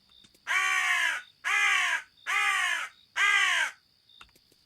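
Four loud, harsh caws from a crow in the video game Small Mouse, Big House, each about half a second long with short gaps between them, close and clear with no talk over them.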